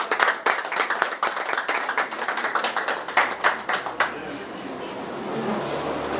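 Audience at a Congolese political gathering applauding with distinct, uneven claps for about four seconds before the clapping fades into a softer murmur of crowd noise.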